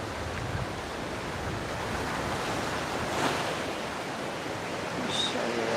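Steady wind and surf roar on a beach, loud and constant, with broad rushing noise and wind buffeting the microphone throughout.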